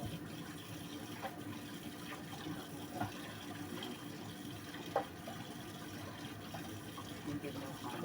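Tap water runs steadily in a home kitchen during washing up while cooking, a continuous close splash with a few small clinks over it.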